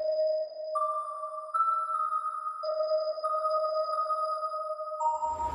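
A single sustained synth voice from an Analog Lab preset, meant for a hard trap-style melody, plays clean held tones that step between a few pitches, moderately loud and alone with no talking.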